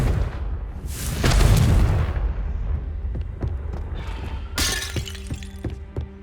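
A Confringo blasting spell explodes in the video game Hogwarts Legacy: a sharp, loud burst with a shattering crackle of debris, then fainter scattered pops and a second brighter blast near the end.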